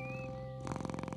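A cat purrs close up, a rapid, rhythmic rumble that starts partway through after a sustained tone.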